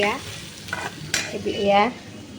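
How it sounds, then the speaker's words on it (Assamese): Jackfruit seeds fry in a little oil in a pan for a ripe jackfruit seed curry. A spatula stirs and scrapes them in close, rhythmic strokes over a steady sizzle, with a metallic clink midway. "ইয়াত অলপ তেল দি এনেকৈ ভাজি লৈছোঁ"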